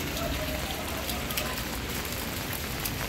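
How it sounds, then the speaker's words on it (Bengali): Heavy morning rain falls steadily in Italy, a dense continuous hiss on surfaces that stays loud and even throughout with no pauses. "দেখতে পেলেন প্রচুর পরিমাণে বৃষ্টি হচ্ছে"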